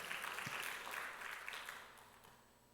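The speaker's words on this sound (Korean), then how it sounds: "박수 한번 하나님께 영광 올립니다" A church congregation claps together in praise during a Korean sermon, a burst of brisk applause that is strongest at the start and fades over a few seconds.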